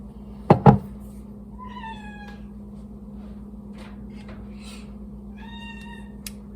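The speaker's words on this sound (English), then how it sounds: "if you hear that meowing, it's my kitten, Mish. She's very vocal." A vocal kitten named Mish gives two clear, rising meows a few seconds apart over a steady low indoor hum, with a couple of soft thumps near the start and no talking.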